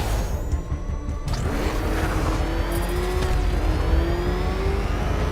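Cars racing in a chase in Batman: Arkham Knight, engines roaring loud and close with tires squealing and a rising whine as vehicles speed along, continuous throughout.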